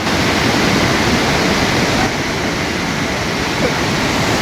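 A strong river current rushes out from a dam, forming a dense, loud and continuous roar of churning water with no break across the whole stretch.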